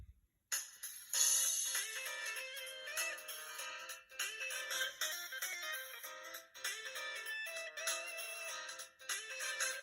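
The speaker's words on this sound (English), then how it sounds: "let's go ahead and play that ringtone" An LG Voyager cell phone ringtone plays a bright, repeating electronic melody after a short silence, clear and fairly close with no talking.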